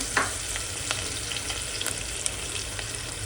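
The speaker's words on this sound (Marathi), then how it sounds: "तेजपत्ता 1, हे बारीक गॅसवर थोडं लाल करूया" Bay leaf frying in oil in a pan over a low gas flame, giving a steady soft sizzle with faint crackles and a few brief pops, with no voices.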